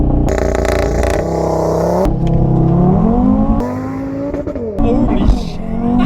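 A Mk3 Audi TT RS with a Stage 2 tune launches hard from inside the cabin, its engine revving and climbing through gears in rising surges, with excited voices over it.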